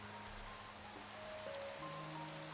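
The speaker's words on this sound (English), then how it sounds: "The rain adds a nice sound effect." Steady, soft rain patter in Minecraft fills the background, a continuous hiss of drops with faint tonal hums beneath it.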